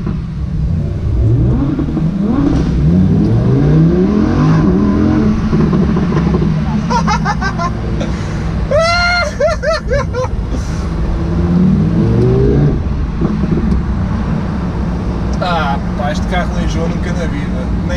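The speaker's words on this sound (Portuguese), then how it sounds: "Quero ouvir o Audi." An Audi car engine revs up and down repeatedly, rising and falling in pitch, with people talking close by over the steady idle in between.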